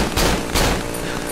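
Gunshots fired at an eye in the horror game Cry of Fear, two loud sharp shots about half a second apart with a rumbling tail, no talk.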